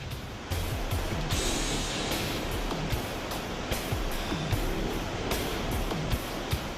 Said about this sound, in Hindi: ग्लेशियरों का सीना चीरकर बहती हुई अलकनंदा नदी का शोर रोंगटे खड़े कर देने वाला था।